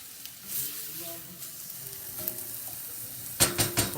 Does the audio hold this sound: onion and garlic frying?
yes